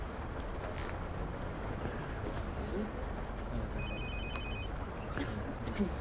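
A mobile phone rings with a bright, repeating electronic tone through the steady drone of a coach in a Fernbus Simulator drive from Nürnberg to Frankfurt, the ring clear but sitting under constant engine and road noise.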